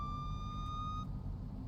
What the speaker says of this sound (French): pourquoi il y a les sirènes